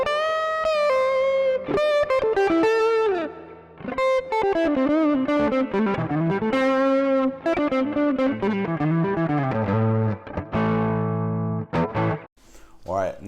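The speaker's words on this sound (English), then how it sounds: "This one is the Duelist here with the neck pickup." Electric guitar on its neck pickup, a Duelist model, played through a Henriksen Bud amp: a flowing single-note melodic line with bends and slides, warm and close, colored by effects and light reverb.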